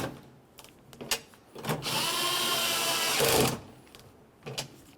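Tailgate handle mounting nuts on a 2001-2005 Ford Explorer Sport Trac being snugged with a ratchet: one sustained buzzing whir of roughly a second and a half, close and fairly loud, between brief clicks and knocks, with no voices.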